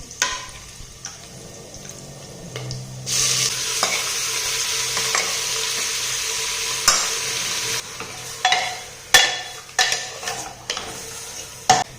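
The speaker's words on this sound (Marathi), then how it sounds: "त्याच्यामध्ये मी हे चिकन घालत आहे" Chicken pieces hit oil with golden-fried onions in a cooker pot, bursting into a loud steady sizzle, then stirring scrapes and sharp metallic clinks of a spoon against the pan near the end.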